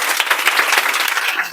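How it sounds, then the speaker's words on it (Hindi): Loud, dense applause from a classroom of students cheering a classmate's correct answer in a math lesson, steady clapping filling the whole moment without pause. "जोरदार ताली।"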